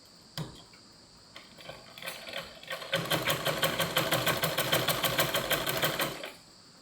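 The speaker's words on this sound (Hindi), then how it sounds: "मशीन की बड़ी चाल करके ही कच्ची सिलाई लगाते हैं" A sewing machine runs at a long basting-stitch setting, starting with a few slow separate stitches and then settling into a fast, steady, rhythmic whirring clatter before it stops. It is close and clear, with no talking.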